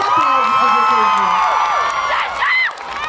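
A concert crowd at a show in São Paulo cheers, whoops and applauds, a dense roar of shouting voices with high-pitched screams and scattered clapping that fades slightly near the end.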